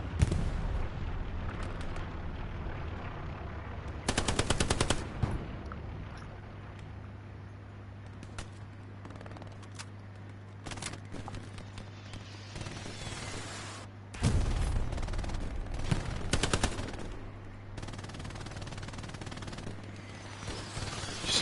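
Artillery and gunfire in the video game Hell Let Loose: loud bursts of blasts around the 4–5 s mark and again near 14–17 s, with scattered shots between, over a steady low rumble.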